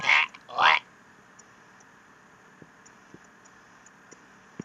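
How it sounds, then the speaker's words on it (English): Two quick, squawky croaking cries close together from a Skylanders video game enemy dying, then near-silence broken by faint scattered clicks and a tiny blip at the end. "I also love their death noises."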